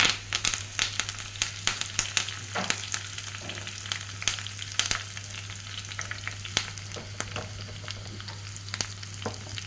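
Dried red chillies and curry leaves sizzle and crackle in hot tempering oil, a steady close frying hiss broken by sharp pops and stirring scrapes.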